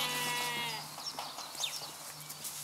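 A goat gives one drawn-out, wavering bleat that fades within the first second. Soft shuffling and rustling follow at moderate volume, with no talk.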